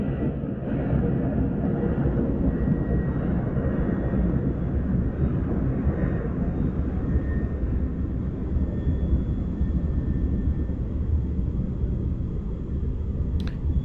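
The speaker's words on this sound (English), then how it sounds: "Sounds like a big aircraft." A large aircraft passes overhead as a deep, steady rumble that fills the whole stretch at a constant level, heavy and continuous with no clear approach or fade.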